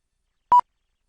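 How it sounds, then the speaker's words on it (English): A single short electronic alert beep, clean and clear, sounding alone against silence as part of a notification that repeats every ten seconds. "That just beeps again."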